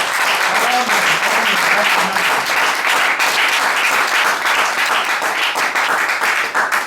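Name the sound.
congregation applauding in church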